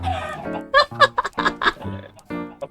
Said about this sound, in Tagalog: Ingay ng manok mo, boss.